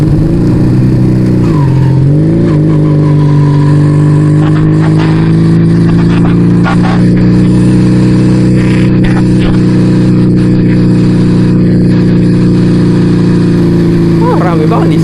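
A two-stroke Yamaha Vega ZR motorcycle, converted to twin cylinder, revs steadily and loudly up close, its engine note holding strong throughout with brief rises.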